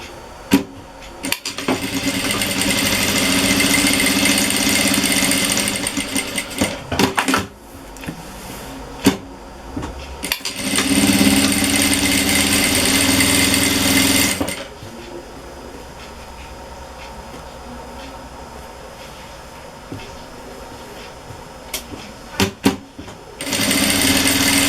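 Sewing machine stitching all the way around a Christmas tree fabric wall hanging, running in steady bursts of whirring stitches with short stops between runs, fairly loud and close, then quieter handling.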